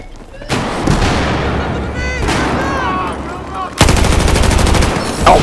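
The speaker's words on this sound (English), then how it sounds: "shooting rockets down at us." In the Battlefield 4 video game, rockets fire and explode in loud booming bursts amid continuous gunfire, with a heavy new blast near the end and voices shouting over the battle.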